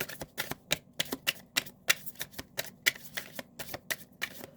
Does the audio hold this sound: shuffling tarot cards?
yes